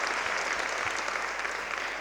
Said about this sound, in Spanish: Yo también creo que se merece un aplauso nuestro Jesús.